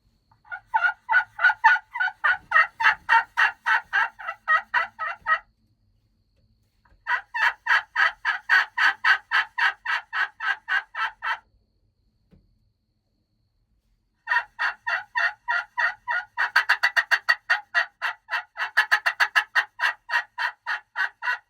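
A strutting wild turkey gobbles during Kentucky turkey season, giving three long bursts of rapid gobbling with short pauses between them, clear and fairly close, with no other sounds.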